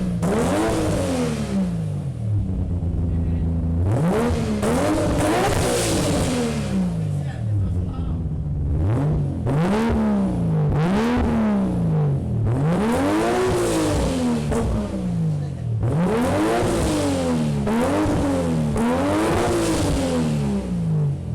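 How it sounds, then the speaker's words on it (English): Nissan Skyline R34 GT-R fitted with a Trust titanium exhaust, revved repeatedly in loud rising and falling sweeps, several throttle blips in a row with an engine clearly audible throughout. "Up first, we've got the Trust titanium exhaust."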